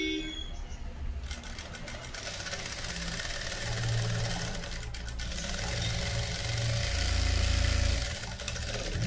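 A sewing machine stitches a lehenga made over from a long frock, its motor running in a steady, continuous hum that swells slightly toward the end, with no voices.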